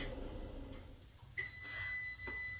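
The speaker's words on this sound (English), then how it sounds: "There's the bell." An oven timer bell goes off partway through, a single sharp ring that leaves a clear, sustained tone hanging over quiet kitchen background noise.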